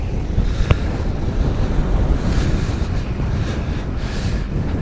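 Strong wind in West Texas buffets the microphone with a steady, loud roar and gusty rumble, heard alone without talk.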